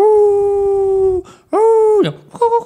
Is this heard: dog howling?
yes